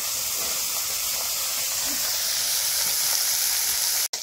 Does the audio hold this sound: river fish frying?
yes